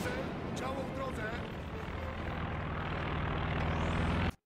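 Enemy aircraft engines droning in the World War II strategy game Company of Heroes 2, a dense, steady roar that holds throughout amid battle noise and game voices, then stops abruptly.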